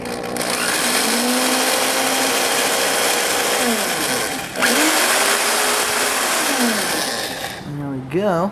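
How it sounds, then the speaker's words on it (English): An electric drill whirs steadily with a pipe stem chucked in it, buffing a Missouri Meerschaum Huck Finn stem; the motor pitch rises and falls as it spins up and slows, loud and close, with a brief drop midway. "chuck the stem in and turn the drill on"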